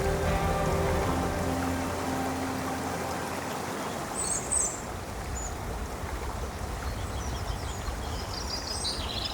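The Pesangan river flows in a steady, full rush. A low hum fades early on, and faint bird chirps come now and then.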